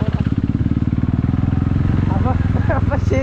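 A motorcycle ridden along a road gives off a loud, steady, pulsing engine thrum, recorded from on the bike, as a rider talks over it.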